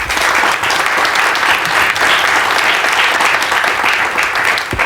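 Sustained, loud studio audience applause on a French television talk show, a dense even wash of clapping from the crowd filling the whole stretch with no voices over it.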